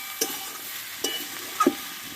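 Drumstick stems stirred with salt and spices in a frying pan, three distinct scraping strokes over a soft background sizzle, close and fairly loud.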